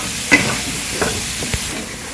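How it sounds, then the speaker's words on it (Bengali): Vegetables with salt, turmeric, chili powder and green chilies being sautéed and stirred in a pan for a village-style curry, a steady sizzling hiss with a few soft scraping stirs, close and continuous. "এখন সবজিগুলো ভালো করে কষিয়ে নেই।"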